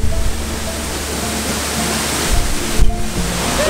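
A waterfall roars close by, a dense constant rush of falling water with spray hitting near the microphone, loud and unbroken.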